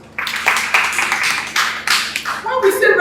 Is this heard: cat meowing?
no